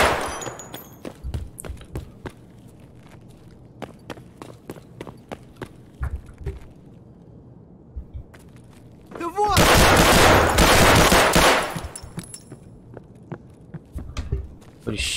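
Gunfire in the video game Escape From Tarkov: scattered sharp single shots and footstep-like taps, then a dense, loud burst of sustained firing lasting a few seconds before scattered shots return.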